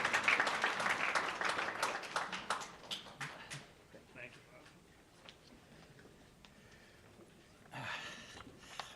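Applause from a business forum audience for a speaker taking the podium, fairly loud at first, then thinning and fading into scattered claps and room noise, with a short swell of clapping near the end.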